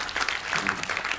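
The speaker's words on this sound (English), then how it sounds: "So please give a round of applause to Samir Dixie," Audience applause at a Brand Finance forum for staff member Samir Dixie, a short steady patter of many hands clapping at moderate volume, with no voices over it.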